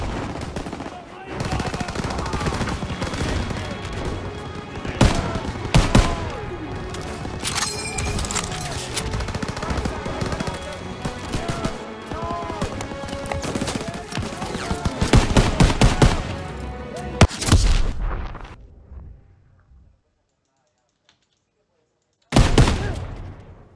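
Sustained machine-gun fire in Call of Duty WWII around a barn rattles loudly and continuously for most of the clip. It cuts to near silence for a few seconds, then one more loud burst hits at the very end.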